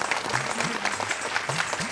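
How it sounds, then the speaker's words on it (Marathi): Audience applause for two dance groups at a Mangalagaur festival stage show, a steady burst of clapping from a crowd, dense and continuous throughout with no one talking over it. "एकदा जोरदार टाळ्या होऊन जाऊ द्यात आपल्या ह्या दोन्ही ग्रुपसाठी"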